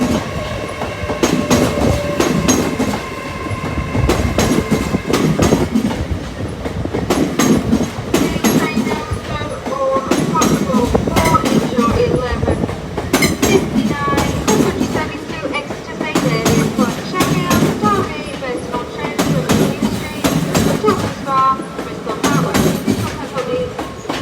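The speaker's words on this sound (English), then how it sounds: "11:56 LNER Azuma from York to London King's Cross, which has 9 coaches." A nine-coach LNER Azuma from York to London King's Cross passes through Doncaster station with a loud, steady roar and rhythmic wheel clatter that lasts throughout.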